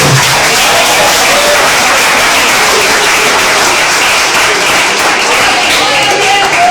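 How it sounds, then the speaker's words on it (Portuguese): A church congregation claps together during a service, a steady loud wash of applause with faint voices mixed in. "Palmas para Jesus."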